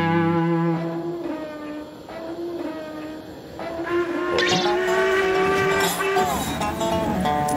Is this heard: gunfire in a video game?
no